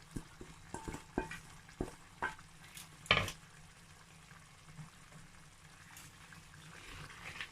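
Spinach being stirred into egusi soup in a pot, with a series of close scraping, stirring knocks early on and a louder clatter near the middle over a soft, steady simmer.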